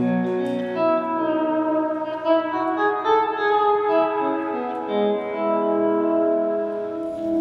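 Sustained electric guitar chords through a 12-watt KT66 amp ring out with a light fuzz-pedal edge and a lingering reverberant tail, played alone.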